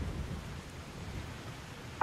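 Loud rain in the video game Fallout: New Vegas, a dense steady hiss with low rumbling, continuous for the whole stretch and heard alone without talk.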